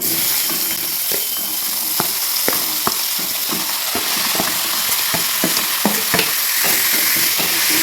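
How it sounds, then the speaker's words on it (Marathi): Loud, steady sizzling of cumin, mustard seeds and other spices in hot oil for tempering, with sharp little pops and crackles scattered throughout. "आपण हे सगळं टाकून द्यायचे फोडणीमध्ये"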